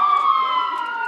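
An ambulance siren sounds at an emergency training exercise where first responders carry patients into ambulances, a steady loud wailing tone held close and continuous throughout.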